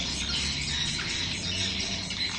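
Recorded swiftlet lure call played through a speaker, a steady stream of high, dense chirping and squawking tones running continuously at moderate volume with no speech.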